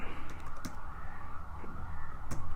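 Light clicking from a computer keyboard, a few scattered keystrokes over a faint steady background hum, fairly quiet with no talk.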